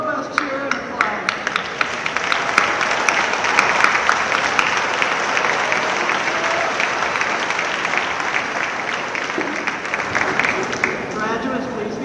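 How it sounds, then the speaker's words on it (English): A college graduation crowd claps and cheers steadily, loud and sustained throughout, with scattered whoops over the dense applause. "Please give them a robust cheer and applause."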